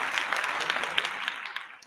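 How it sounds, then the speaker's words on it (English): A round of applause on a podcast, a short burst of clapping that holds steady and fades toward the end, with no talking over it. "Shit, I got to give him another round of applause, man."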